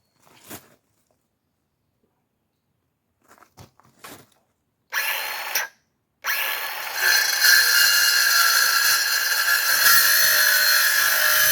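A rattan sword shaft for SCA armored combat is sawn to take half an inch off, heard as a few short scraping strokes followed by a sustained, loud, close cutting noise.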